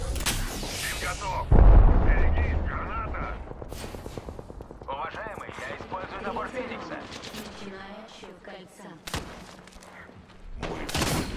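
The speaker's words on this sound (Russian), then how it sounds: "Они по мне стреляют!" Gunfire in the video game Apex Legends, with sharp shots and a heavy boom among bursts of firing, loud and close, mixed with voice lines and a player talking.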